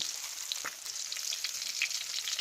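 Fish fried whole with its scales still on, a steady close crackling sizzle of hot oil lasting throughout with small pops.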